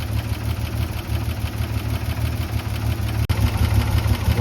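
A 1956 International S-160 4x4 truck engine idles close by, loud and steady with a rhythmic low throb, during work chasing vacuum leaks.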